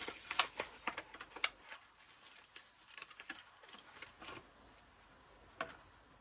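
A carded diecast toy car package with a slightly damaged card being torn and opened, giving sharp papery crackles and plastic clicks in quick bursts, fairly close and quiet, with no talking.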